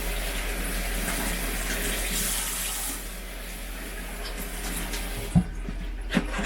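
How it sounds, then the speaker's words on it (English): Guavas are washed under a running kitchen tap, a steady close hiss and splash of water that briefly softens midway, with a couple of sharp knocks near the end. "Let's cut them and wash them first. Okay, so I'm going to wash them."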